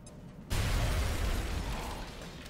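A frag grenade goes off in XCOM Enemy Within. A sudden loud, deep blast hits after a brief quiet moment, then gives way to a sustained rumbling roar of debris that slowly fades.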